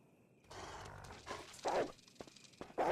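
A dog from the Resident Evil video game growls and barks in a few loud, rough bursts over low game background noise.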